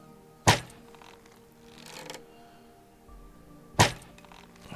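A pillager shooting arrows in Minecraft: two sharp, loud thunks a few seconds apart over a quiet game background.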